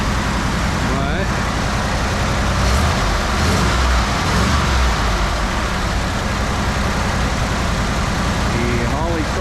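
A 1977 Jeep Honcho engine fitted with a Holley Avenger carburetor idles steadily and a little fast, a continuous loud low rumble with broad road-like noise and brief voice sounds over it.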